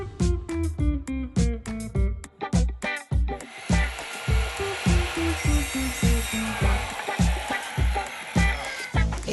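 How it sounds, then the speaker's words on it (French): Wood being cut with a circular saw and a jigsaw, a rough rasping buzz in rapid repeated strokes, close and loud, with no talking. "on va travailler aussi bien avec notre scie circulaire qu'avec notre scie sauteuse à l'envers"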